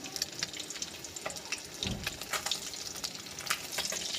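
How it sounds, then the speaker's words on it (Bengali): Fish sizzles and crackles in a pan, a dense, steady hiss of frying with a few louder spits and a brief low clatter midway, fairly close, with no talking. "আর ওই মাছ ভাজছি মাছ দিয়ে।"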